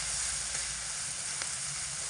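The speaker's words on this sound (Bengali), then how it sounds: "গ্যাসে করলে হাই আঁচে দিয়ে মাছগুলোকে ভেজে নেবে" Prawns frying in mustard oil over a high flame, with a steady, fairly faint hissing sizzle throughout a short stretch, no voices.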